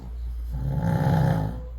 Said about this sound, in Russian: Тише всех храпят мальчики.